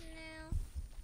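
A voice imitates a cat, giving one short, tonal, drawn-out meow followed by a couple of soft thumps, quiet and close.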